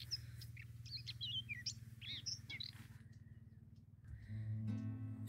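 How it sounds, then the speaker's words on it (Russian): A small bird sings nearby with a few quick, bright chirping phrases at a garden plot, followed by quieter calls as a low hum and mechanical tones rise. "Где-то поет птичка."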